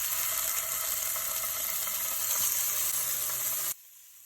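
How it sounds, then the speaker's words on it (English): Salmon pieces frying in a pan for a coconut curry, a loud, steady hiss and crackle that holds constant before cutting off abruptly near the end, leaving near silence. "And then we're going to fry the next batch."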